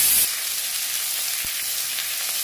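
Tomatoes tipped into onions frying in a pan for chana dal tadka give a sharp, loud burst of sizzle at first, then settle into a steady, close, hissing fry with no talking.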